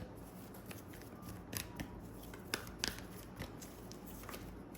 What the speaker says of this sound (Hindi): मैं यहाँ पर हमेशा की तरह 2 कार्ड रखूँगी। चलिए आज 3 रखते हैं।